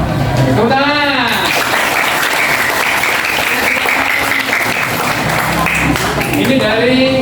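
Sustained, dense applause fills the room at a junior high school's student council election event, a steady wash of many clapping hands lasting several seconds, with a voice speaking over it at the start and again at the end.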